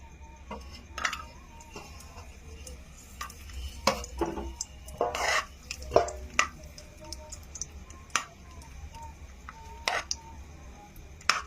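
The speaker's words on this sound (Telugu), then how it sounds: "నెక్స్ట్ ఇప్పుడు కిస్మిస్లు కూడా ఫ్రై చేసేసుకోవచ్చు." Raisins fry in a pan for dry-fruit rava laddu, with a low sizzle beneath irregular scraping and tapping as a spoon stirs them, some knocks louder than others.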